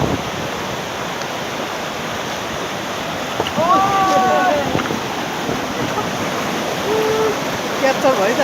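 Steady rushing of a flowing river stream, the Shera Khola, at a hiking crossing point, a continuous broadband wash filling the whole clip with brief bird-like chirps over it.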